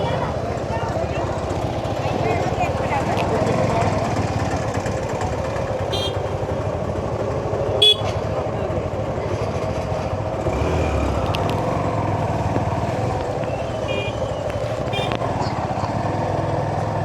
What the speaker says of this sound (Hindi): तो बाइक लेके जाते हैं ऊपर।